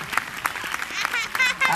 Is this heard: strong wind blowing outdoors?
no